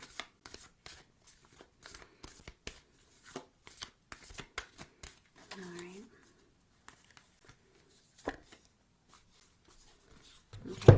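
Oracle cards being shuffled by hand, a string of quick, close riffling snaps with pauses between, interrupted by a person speaking briefly.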